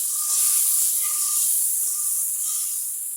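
Spice paste sizzles steadily in a frying pan while being cooked down for a curry with jackfruit seeds and stems, a continuous close, bright hiss with no talking.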